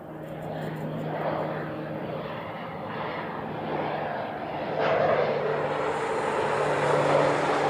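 A Japanese Boeing 767 arriving from Tokyo comes in to land at Honolulu, its jet engine noise a steady broadband roar that swells louder toward the end, fairly distant with faint background hum.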